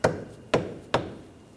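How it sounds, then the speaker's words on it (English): Three evenly spaced, dull thuds from a rubber mallet tapping a lower control arm into the rear knuckle of a 2013-2019 Ford Escape, close, each one fading quickly. "Might have to use a little hammer. Use a rubber mallet."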